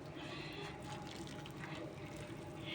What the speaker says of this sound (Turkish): Tatlımız sıcak, şerbetimiz sıcak. Daha fırından çıktığı gibi döküyoruz.